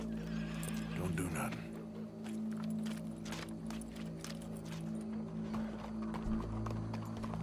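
In the Red Dead Redemption 2 video game, a horse whinnies and its hooves clop in an irregular rhythm, close by, over a low steady hum, with people talking.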